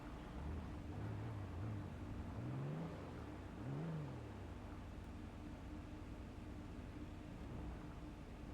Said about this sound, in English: Oh my god, my car doesn't sound like it's falling apart.